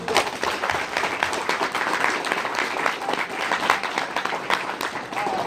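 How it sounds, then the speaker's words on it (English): A high school football team claps together during a motivational talk, a steady, fairly close burst of many hands clapping, with voices shouting faintly among it. "All right, clap it up."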